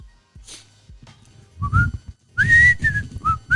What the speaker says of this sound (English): I whistle a lot